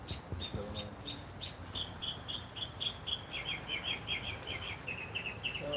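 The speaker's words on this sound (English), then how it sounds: "the bird's really singing up a storm" A bird sings a run of bright repeated chirps and trills, moderately near and continuous over steady background noise.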